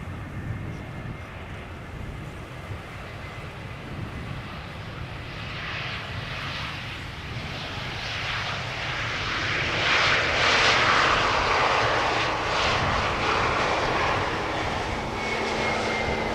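Airliner landing at Amsterdam Schiphol Airport without reverse thrust: a steady engine roar that swells as the plane passes close, then eases off, heard outdoors without speech.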